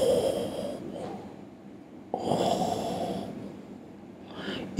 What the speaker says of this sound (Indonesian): Kalau tidak ada unsur suara ngorok.